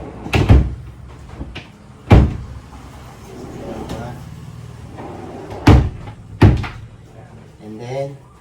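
A push-to-open drawer in a DIY bedroom wardrobe with sliding doors gives several sharp knocks and thumps as it is pushed, opens and shuts again, with a person talking quietly between the bangs.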